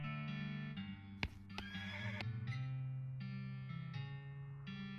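A horse in the video game West of Loathing neighs and whinnies loudly with a long, wavering call over a steady musical backdrop, punctuated by a couple of sharp clicks and faint clip-clop hoof sounds.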